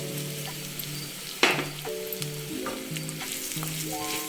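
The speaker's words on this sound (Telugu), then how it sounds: "ఇప్పుడు ధనియాలు వేసుకుందాం." Coriander seeds frying in a pan for ginger pulusu, adding a sharp crackling burst on entry and then a steady sizzle with faint stirring taps, heard close with no voices.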